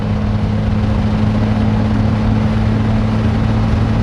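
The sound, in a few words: truck engine running in gear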